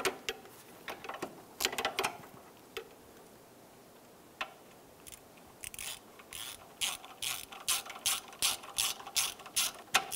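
A ratchet with an extension snugs the camshaft position sensor bolt on a 1999-2004 Jeep Grand Cherokee, with a few clicks early on, then a steady run of rhythmic ratcheting clicks near the end, close and with no talk.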